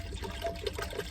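Water poured from a gym bottle into a bowl inside a camper van gives a short, close splashing trickle, heard alone.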